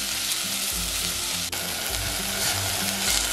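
Chopped fenugreek leaves sautéing in a hot pan, a loud steady sizzle with a low rhythmic scraping of stirring underneath, close and continuous.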